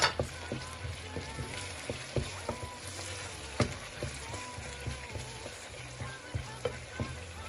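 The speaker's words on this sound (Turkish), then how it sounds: "Baharatlarımı ilave ediyorum. Onlarla beraber kavuracağım." Spices sauté in a pan for lentil köfte, making a low, crackling sizzle broken by scattered light taps and scrapes from stirring, fairly faint and close.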